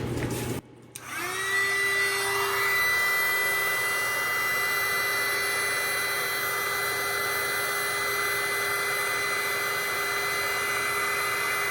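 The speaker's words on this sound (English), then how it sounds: "I'm going to get my heat gun out" Heat gun blowing steadily and loudly over a resin-filled crystal jar to pop surface bubbles, a continuous whooshing motor and airflow hum that starts after a brief pause and holds unchanged.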